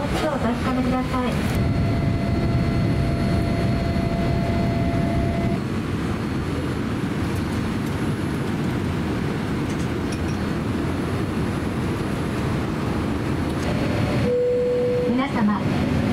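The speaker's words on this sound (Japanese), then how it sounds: "皆様、離陸いたします。" An ANA airliner on its takeoff roll out of Naha Airport, heard from inside the cabin as a steady, loud rumbling engine roar under a cabin announcement chime and brief tones.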